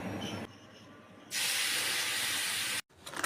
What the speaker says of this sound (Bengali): এবার ওই মাছের তেলে আগে থেকে বেটে রাখা মশলাটা দিয়ে দেবো।